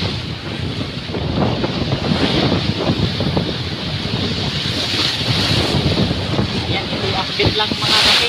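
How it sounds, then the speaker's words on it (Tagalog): Strong gusting monsoon wind roars across the microphone over crashing surf at Isabel, Leyte, Philippines, a dense, continuous rush of noise throughout. "sa lakas ng hangin at malaking alon"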